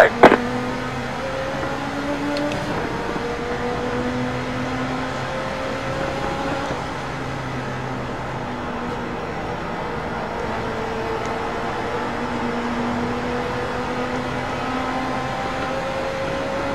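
Legends race cars in iRacing at USA International snarl away together as the green flag drops, a sustained layered engine drone with pitches climbing through the gears, steady and close throughout.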